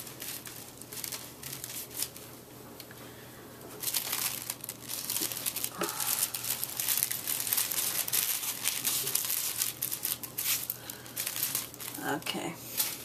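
Crinkling paper as a 1955 Simplicity dress sewing pattern and its instructions are cut out, soft rustles and snips that grow busier after a few seconds, under occasional talking.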